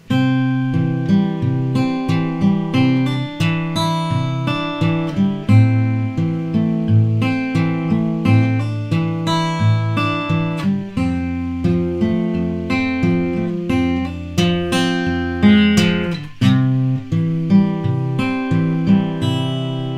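Fingerpicked acoustic guitar rolling through a Travis-style pattern, alternating bass notes under plucked melody strings, steady and close with no talking.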